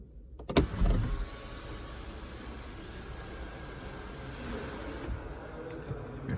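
Electric sunroof on a Hyundai Accent RB opening, a steady motor whir running for several seconds after a brief click and thump, close by inside the cabin with no talking.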